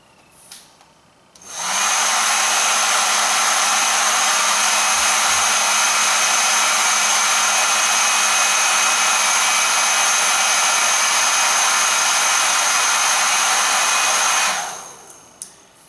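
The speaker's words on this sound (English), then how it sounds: "over here I have a hairdryer" A hair dryer switches on and blows with a loud, steady whir for over ten seconds, then shuts off and winds down.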